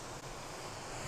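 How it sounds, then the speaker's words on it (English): Waves lap onto rocks along a seashore, a steady broadband wash of surf with some wind noise, continuous and fairly loud with no voices. "with the sound of the waves just lapping up onto the rocks"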